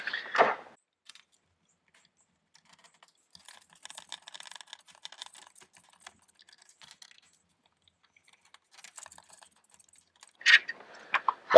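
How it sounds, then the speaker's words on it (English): Screws being backed out and set down while taking apart the switch box on a SawStop Jobsite table saw, heard as sparse light metallic clicks and rattles, with louder clattering handling noises at the start and end. "Now we need to remove 4 of these screws to remove the switch box."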